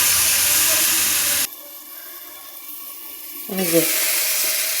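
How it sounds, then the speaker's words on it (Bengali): Turmeric powder is stirred in a hot pan for a tomato dish, with a loud hissing sizzle that cuts out for about two seconds and then returns, alongside brief speech. "এরকম নাড়াচাড়া করতে হবে, এরকম নাড়াচাড়া করতে হবে"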